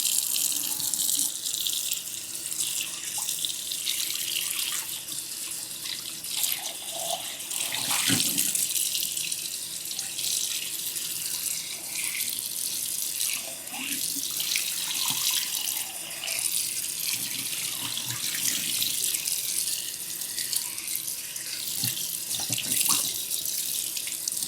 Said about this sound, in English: I'm gonna rinse it.